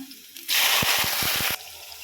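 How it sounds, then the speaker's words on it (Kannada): Vegetables tipped into well-heated cooking oil for a quick vegetable pulao, setting off a sudden loud hiss and sizzle that holds for about a second with a few crackles, then drops back. "ಎಣ್ಣೆ ಚೆನ್ನಾಗಿ ಕಾದೋಗಿದೆ ಇದು ಹಾಕ್ತೀನಿ ಪಟ ಪಟ ಅಂತ ತರಕಾರಿ ಹಾಕೋಣ"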